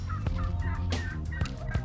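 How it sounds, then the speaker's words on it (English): Wild Merriam's turkeys gobble close by during a bow hunt, several loud, rattling gobbles overlapping in quick succession with no talking. "So these turkeys are heading in."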